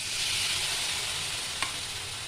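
Soaked cumin, chilli and coriander powder hitting hot oil with soya chunks and potatoes, giving a steady, loud, close sizzle and frying hiss that lasts the whole stretch, with one brief clink of a utensil and no talking.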